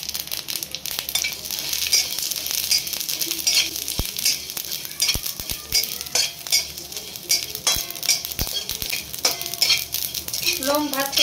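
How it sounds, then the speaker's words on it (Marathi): Cloves, black pepper, cinnamon and shahjeera roast in hot oil, giving a steady crackling sizzle. Utensils stir and scrape now and then, with sharp clinks against the pan. "आता आपण परत याच्यामध्ये थोडं तेल टाकू आणि हे लवंग, मिरे, दालचिनी, शहाजिरं हे सर्वच आपण एकत्र भाजून घेऊ"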